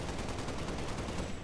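Rapid gunfire in the video game Halo: Spartan Assault, a dense burst of loud shots in quick succession filling the whole moment with no talk.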